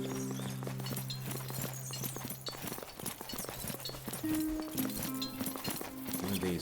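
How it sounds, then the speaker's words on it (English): Horse hooves clip-clop in the video game Expeditions: Rome, a quick patter of soft footfalls under steady game music with sustained tones, moderately loud and continuous throughout. "Look at these horses."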